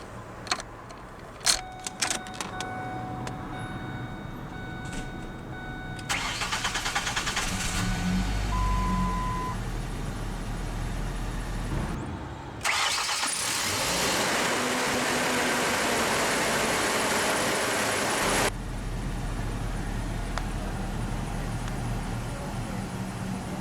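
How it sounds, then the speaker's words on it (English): A 2004 Mazda B2300 base regular-cab compact pickup with automatic transmission: key clicks and jangling, then the engine cranks and catches, settling into a steady close idle with a louder revving burst midway. "let's go ahead and start the engine"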